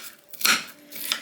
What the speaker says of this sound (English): once I finish with this onion, chopping this onion up